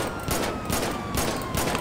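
Gunfire in the video game GTA V during a police chase of an armored car, rapid bursts of shots repeating in a steady rhythm at moderate loudness with no talk over them.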